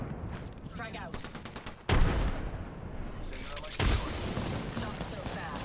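Gunfire in Apex Legends as a close, rapid burst of automatic shots with rattling mechanical bursts, followed by heavier booming blasts and continued firing, busy and fairly loud throughout.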